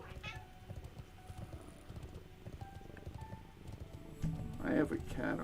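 Pet cat perched on a person's shoulder gives a few short, high meows near the end, close to the microphone, following a stretch of quiet background game sounds and faint talking.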